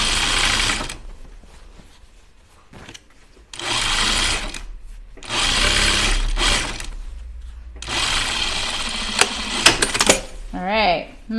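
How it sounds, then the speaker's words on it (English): A sewing machine understitches slacks in several bursts of rapid, close, whirring stitching separated by short pauses, with small handling clicks between runs and a brief voice near the end. "This is the back, so that's where I'm going to start my understitching."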